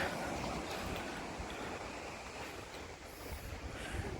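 A continuous broad rush of sea waves at Gavkhadi beach near Purnagad fort, Ratnagiri, steady and fairly loud, with a faint swell toward the end and no voices.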